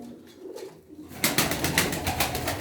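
Pigeons coo close by in soft throaty calls, getting louder and busier partway through, with a faint rustle of wings now and then.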